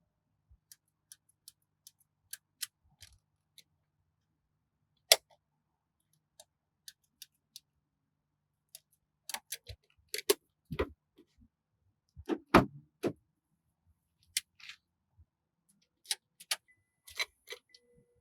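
A Turo lock box is pulled off a car window: sparse, quiet plastic and metal clicks and rattles, scattered at first and then bunched into quick clusters, with silence in between.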